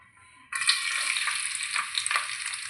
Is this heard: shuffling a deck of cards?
no